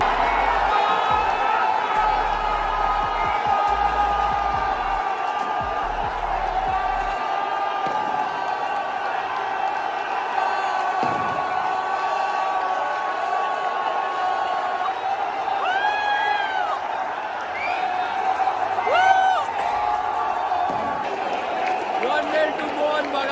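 A huge stadium crowd at the Kolkata derby between Mohun Bagan and East Bengal roars continuously after a goal, with a dense wash of cheering, whoops and chants filling the space, while someone talks over it.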